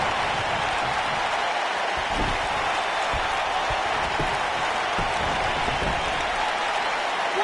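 In the WWE 2K19 wrestling game, a live arena crowd cheers and claps as a dense, steady roar of noise, with no talking over it.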